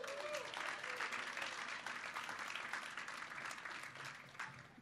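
Sustained applause from an audience at a morning chamber of commerce business event, dense steady clapping throughout that tapers slightly toward the end.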